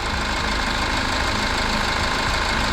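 A used Kia Carnival Limousine engine runs at idle with oil splashing inside, a steady close mechanical clatter with a constant low hum and no talk.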